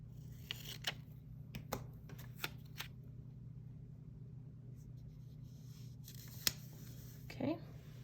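Scissors snipping paper while making a spring cleaning checklist, a handful of short crisp cuts spaced irregularly through the stretch, faint and close over a steady low hum, with a voice speaking quietly.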